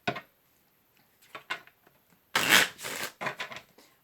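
Tarot cards are shuffled by hand in several quick riffling bursts, close and crisp, with brief pauses and one longer flurry in the middle.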